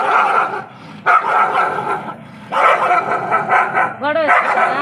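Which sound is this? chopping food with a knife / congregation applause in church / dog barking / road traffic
dog barking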